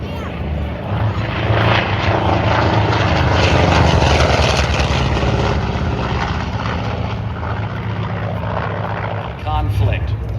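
A Douglas Skyraider, a 2,700-horsepower propeller warplane, drones steadily and loudly at the Oregon International Airshow in McMinnville, its engine roar filling the air throughout with a slight swell midway.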